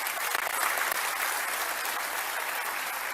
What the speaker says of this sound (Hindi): इसलिए मुख्यमंत्री जी का एक बार जोरदार ताली बजाकर अभिनंदन करते हैं।